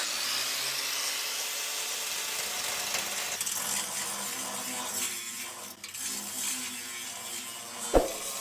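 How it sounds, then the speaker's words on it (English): Angle grinder with a grinding blade working down welds on a steel BBQ pit baffle, a steady high-pitched grinding hiss that falters briefly, ending in a sharp metallic clink. "I've got my angle grinder here with a grinding blade. I'm trying to grind these down"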